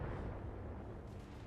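Long-range missiles fired at a mech in the video game Battletech, a low rolling rumble of launches and distant blasts that holds steady through the moment, fairly quiet and without talk.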